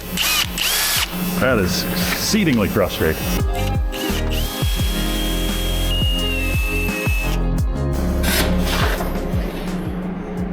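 A power drill with a 13/64 bit bores through the steel of a saw, grinding loudly and almost without pause, with squealing bites and a thin whine partway through, while someone talks over it.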